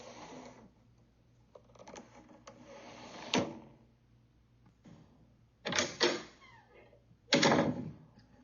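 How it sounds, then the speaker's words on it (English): A window and a door, for fire safety: faint rattling and scraping, then three louder thuds or slams spaced a couple of seconds apart, fairly close, with low background hum and no talk. "This is the sound of a window and a door."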